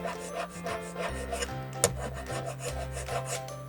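Hand file rasping across the metal upgrade parts of a WPL C74 JA11 Jimny RC model, a rhythmic series of close, scratchy back-and-forth strokes with one sharper scrape near the middle.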